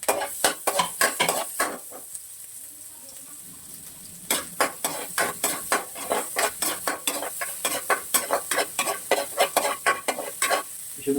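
Ginger sautés in hot oil in a pan for a Filipino coconut-milk dish, a soft sizzle under repeated rhythmic clatter of a spatula scraping and stirring against the pan, with a short pause before the stirring resumes.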